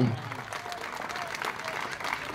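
Audience at a Marathi lecture breaks into applause, a dense steady patter of many hands clapping throughout, moderately loud with crowd murmur mixed in.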